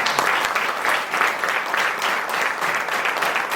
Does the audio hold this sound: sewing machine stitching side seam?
no